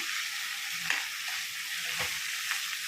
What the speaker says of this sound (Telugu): టమాటో, కొత్తిమీర, పుదీనా వేసుకొని ఒకసారి తిప్పుకున్నాం.